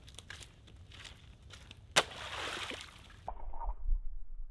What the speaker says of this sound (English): And so it's bubbling, it's bubbling, it's bubbling.